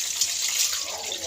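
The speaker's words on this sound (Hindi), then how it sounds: "तो एक बोल हम डाल देते हैं इसमें पानी का" Tap water runs steadily into a bowl for a fish-frying recipe, a continuous hissing splash close by with no talk over it.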